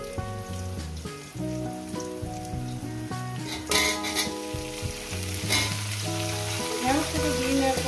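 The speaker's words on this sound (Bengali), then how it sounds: "ঢেঁড়সটাকে দিয়ে নেওয়ার পর আরও আমি রান্না করবো, এটাকে ভাজা করবো।" Okra fries in a pan for a fish curry, giving a constant crackling sizzle with several louder stirring scrapes, while faint tonal background music plays underneath.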